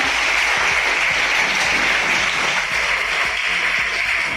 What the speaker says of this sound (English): Big round of applause for Bhutal Sita.